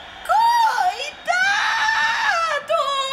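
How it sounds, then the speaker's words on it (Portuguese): A terrified scream rings out in long, wavering high-pitched wails, broken by a brief pause, loud and close. "Alguém soltou um grito de pavor."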